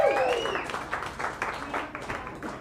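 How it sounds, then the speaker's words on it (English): Audience at a Cleveland roast battle applauds and cheers for a judge, steady clapping from a live crowd filling the room, with an opening whoop and voices mixed in. "Give it up for Justin."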